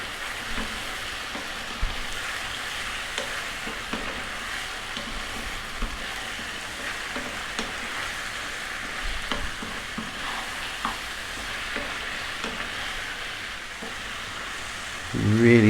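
Turmeric, chili, coriander and cumin frying in a pan for a chicken coconut curry, a steady soft sizzle with repeated stirring scrapes and a brief louder clatter at the end.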